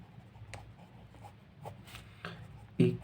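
Chalk or marker writing on a board while working through a maths problem, a series of short scratchy strokes and taps at moderate level, ending with a firmer knock.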